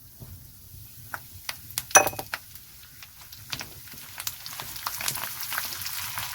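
Asafoetida and curry leaves dropped into hot oil for a South Indian chilli pickle, a quiet steady sizzle and crackle with scattered sharp pops and a few clinks of a utensil against the pan.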